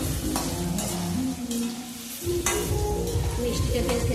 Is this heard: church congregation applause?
no